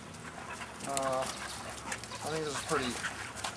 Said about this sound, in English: As you can see, he's a very active dog.